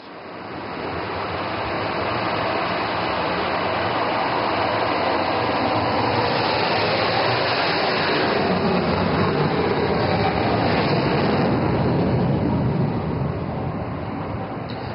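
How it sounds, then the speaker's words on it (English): Rafale fighter jet taking off at full power with afterburners engaged, a loud, continuous broadband roar that builds and holds steady throughout, with no talking. "And now the afterburners are engaged."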